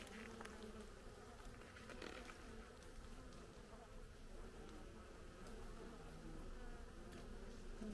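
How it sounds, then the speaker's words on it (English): Honey bees buzzing over a hive frame: a faint, steady swarm drone with no break, plus occasional soft knocks nearby. "There's a lot more bees on this bottom bit, and they're just drawing out brood"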